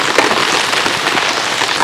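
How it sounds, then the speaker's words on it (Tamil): Dense, steady hiss of rain pattering on a surface, loud and continuous with no voices. "மழையும் பெய்ய ஆரம்பிச்சிருச்சு"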